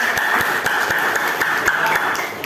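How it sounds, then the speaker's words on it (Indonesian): Students in a high school class clap for a group presentation, scattered hand claps sounding from nearby under a steady background hum, with no clear talk over them. "kita tepuk tangan lagi untuk"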